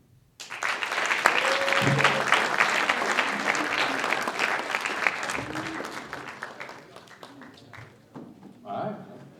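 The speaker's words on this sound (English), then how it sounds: "Let's give a sophisticated round of applause for all the contestants" Sustained audience applause for contestants at a military speech competition, a dense wash of many hands clapping that swells, holds, then tapers with a brief late surge, with faint voices mixed in.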